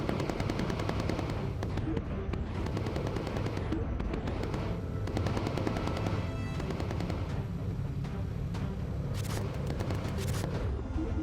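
Rapid machine-gun fire from a bomber's gunner in the video game Bomber Crew rattles on without pause, dense and steady, with engine drone and occasional heavier booms beneath it.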